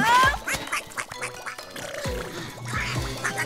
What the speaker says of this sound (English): That doesn't sound like a happy quack.